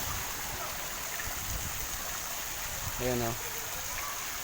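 A tipping bucket shower at a summer beach resort in Bolinao, Pangasinan pours a steady, rushing stream of water, quite faint and distant, with a brief spoken voice near the end.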